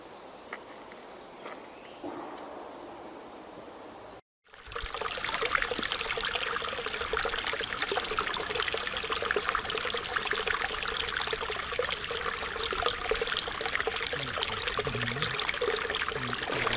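The Šachecký brook flowing through a wooded valley between Kosoř and Radotín, starting as a faint, quiet scene with a few footsteps, then switching abruptly to a loud, steady, close rush and trickle of water that continues to the end.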